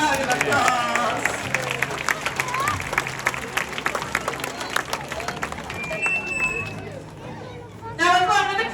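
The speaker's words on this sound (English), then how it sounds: "let's give him a massive round of applause" An audience claps loudly and continuously at a sea lion show at a West Midlands safari park, with crowd noise and a presenter's voice talking over the applause.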